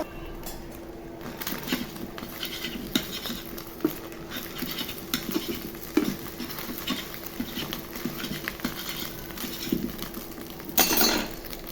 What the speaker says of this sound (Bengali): ডাল রান্না করতেছি